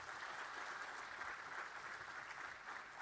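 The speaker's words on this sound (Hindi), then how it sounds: "जोरदार तालियां बजती रहें।" A hall audience at a government youth and women's groups event in Dehradun claps in a steady, continuous wash of applause, moderately distant and unbroken for several seconds.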